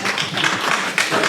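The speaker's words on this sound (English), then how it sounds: "Please hold your applause." Audience applause at a 2023 candidate forum, a steady close patter of many hands clapping in a hall, with no voices over it.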